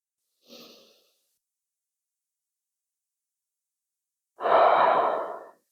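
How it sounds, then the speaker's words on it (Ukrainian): Deep belly breathing during a fitness exercise on a floor mat: a short soft inhale, a long pause of silence, then a long, loud breathy exhale close to the microphone. "Вдих, животик надувається. Видих."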